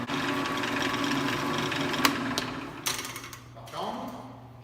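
A drill press in a community woodworking shop spins its bit with a steady motor hum and whir, a few brief clicks and knocks along the way, and the tone drops near the end as it winds down.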